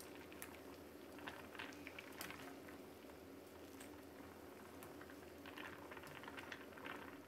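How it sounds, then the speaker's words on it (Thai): Pork bones simmering in a pot of water, a soft continuous bubbling and gentle popping close by, quiet and steady with small irregular pops on top. "เล้งของเราก็เดือด นะครับเราจะต้มต่ออีก5นาทีนะครับ"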